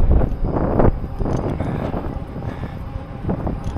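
Wind on a desert highway, buffeting the microphone in loud low rumbling gusts that swell and ease, with a faint hint of passing traffic.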